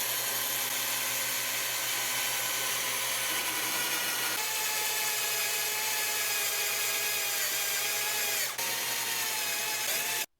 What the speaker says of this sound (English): here we'll go do the other hole with the hole saw.